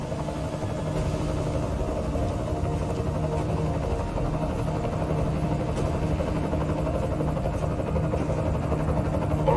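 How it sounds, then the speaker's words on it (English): An enemy helicopter in a military video game keeps up a steady, droning rotor and engine hum throughout, constant in level and unbroken by speech. "Enemy helo sighted."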